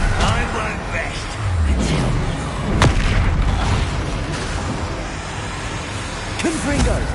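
Blasting-spell explosions in the Hogwarts Legacy video game, a dense roar of booms and bursts with one sharp crack near the middle, mixed under a voice and continuous game noise.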